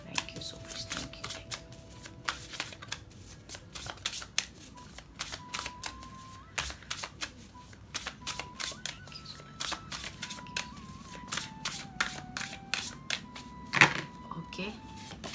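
A tarot deck is shuffled in rapid, repeated riffles of card-on-card flicks, close and crisp, running through the whole stretch while a voice talks over it.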